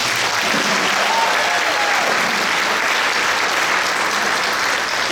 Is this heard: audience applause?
yes